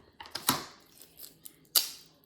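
Scissors snipping open a plastic slime kit package, a few sharp crisp cuts with a couple of louder snips, close up and with no talk.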